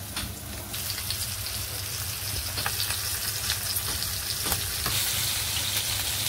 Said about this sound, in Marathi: तर आपण एक एक बांगडा सोडून घेऊया तेलामध्ये।